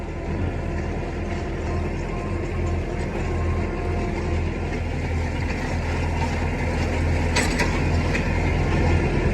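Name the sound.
tractor engine at low RPM while baling hay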